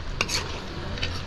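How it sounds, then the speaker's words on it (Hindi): A spoon stirs okra in a yogurt masala gravy with crushed kasuri methi in a hot pan, a couple of scraping strokes over a steady close sizzle, with no one talking. "अब इसमें डालेंगे देखिए कसूरी मेथी थोड़ा सा क्रश करके, और इसको चला देते हैं।"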